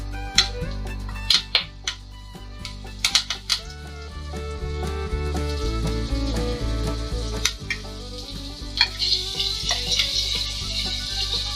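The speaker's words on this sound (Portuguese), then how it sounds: "eu já joguei ali os camarões, então tô aguardando fritar de um lado e do outro" Shrimp dredged in flour sizzle steadily in a hot pan for a shrimp Provençal dish, a continuous close frying hiss with scattered sharp pops and crackles throughout.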